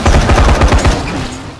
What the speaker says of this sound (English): And some help from our shotgun.